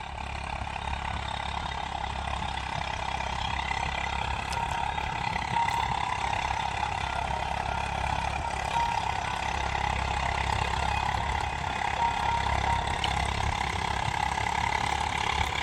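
A tractor engine runs steadily in a farm field during sugarcane planting, a constant mid-pitched drone that stays fairly distant and even throughout, with no talk.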